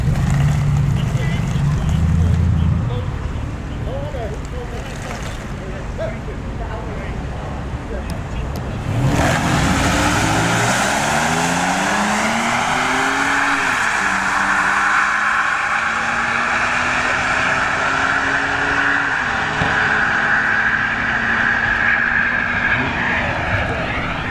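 A Toyota Tacoma and a Hyundai Elantra launch side by side at a drag strip, engines revving up through rising gear changes. The roar is loud and continuous, with a voice talking over it at first.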